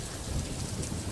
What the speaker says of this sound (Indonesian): Hujan turun tanpa aba-aba, langit gelap